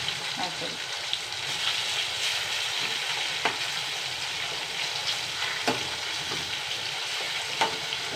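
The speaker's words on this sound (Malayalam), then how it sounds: "വറുത്തെടുക്കട്ടെ" Fish sizzling as it fries in a pan for a home-cooked meal, a steady crackling hiss with occasional pops and sharper spatters, close and moderately loud throughout without talk.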